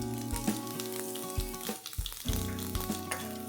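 Cumin seeds and asafoetida sizzle in hot oil with mustard seeds for the tempering of a Maharashtrian buttermilk pithla, a steady close frying hiss broken by small crackles and pops, with no talking.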